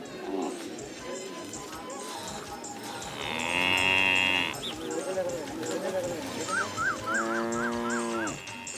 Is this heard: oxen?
yes